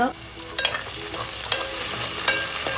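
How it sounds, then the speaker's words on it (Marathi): Onion sautés in hot oil, giving a continuous sizzle with sharp clinks and scrapes from stirring at irregular moments. "आपल्याला हलकं हलकं गुलाबी कलरवरती कांदा थोडासा परतून द्यायचा आहे"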